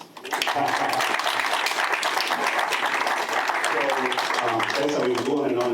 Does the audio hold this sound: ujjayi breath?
no